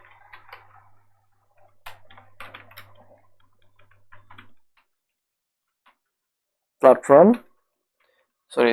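Light clicking on a computer keyboard in scattered short bursts, faint and close, while typing HTML; the keys go quiet before a voice speaks near the end.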